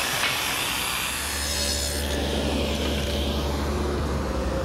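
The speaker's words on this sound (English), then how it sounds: "I'm going to use my circular saw to make the cut" Circular saw cutting plywood along a clamped straight edge, a loud continuous whining, rasping cut heard up close and steady throughout, with no talk.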